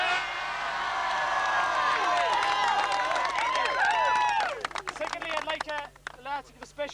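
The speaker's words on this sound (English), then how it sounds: "I'd like the lads to give him a good big cheer" Members of the under-21 club team of a county hurling final winner cheer together loudly with mixed shouting and whooping voices, sustained for several seconds before breaking into scattered shouts as the crowd noise fades.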